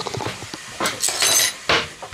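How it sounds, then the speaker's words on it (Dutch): Metal cutlery clinks and rattles as it is picked up at a table, a few short bright chinks close by with faint background noise and no speech. "Pak ik een bestek."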